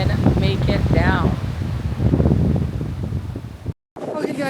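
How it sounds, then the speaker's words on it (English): Strong wind buffets the microphone on a mountain summit viewpoint atop Mt Liamuiga in St Kitts, a loud continuous low roar, with a person talking over it and a brief dropout near the end. "It's really very windy."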